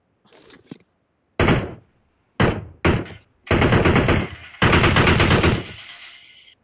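Automatic gunfire in a battle royale shooter game, where an AWM sniper rifle is in play: a short burst, then a series of loud, sharp volleys with brief silences between them, the last bursts longer and sustained.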